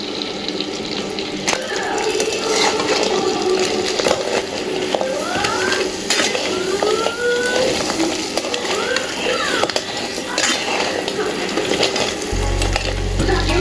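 Crab pieces roast in coconut masala in a hot pan, with a close, steady sizzle and repeated scraping strokes of a stirring spoon throughout.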